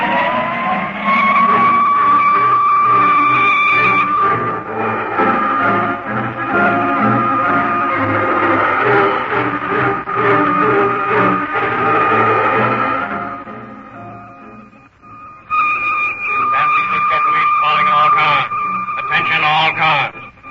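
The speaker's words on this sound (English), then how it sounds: "Kick that siren open and drive straight through the west gate." A getaway car in a 1930s radio drama, a Studebaker sedan, drives hard with its siren wailing steadily over a rumbling engine and skidding tires, with voices shouting over the din and a pause before the siren resumes.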